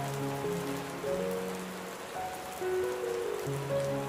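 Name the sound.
rain falling outdoors on balcony garden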